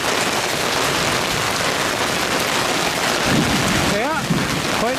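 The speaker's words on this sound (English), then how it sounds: "See the rain washing them quite nicely." Rain pours steadily onto solar panels near Lake Buena, a loud continuous wash of drops. A brief voice-like warble is heard faintly near the end.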